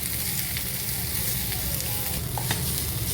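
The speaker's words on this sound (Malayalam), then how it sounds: "ഇത് നന്നായിട്ട് വഴറ്റിയെടുക്കുക ഒരു 3 to 4 മിനിറ്റ്സ്" Chicken frankie filling is sautéed in a hot pan, giving a continuous, even sizzle with faint scraping of stirring, close and steady throughout.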